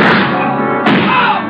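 Gunfire in an old-time radio crime drama shootout: two loud, muffled shots about a second apart in a close, band-limited recording.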